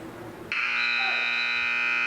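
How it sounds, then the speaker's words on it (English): A buzzer ending a round at a varsity high school wrestling match cuts in sharply and holds as a loud, steady electronic tone over the quieter gym noise. "And there's the buzzer to end that round"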